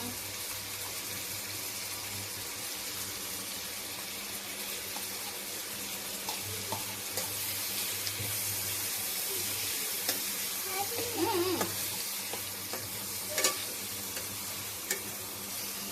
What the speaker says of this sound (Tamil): எண்ணெயிலே வதக்கிட்டு தான் மசாலாவை வந்து தண்ணி வேக வைக்கணும்.